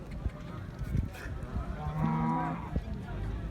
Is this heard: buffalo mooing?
yes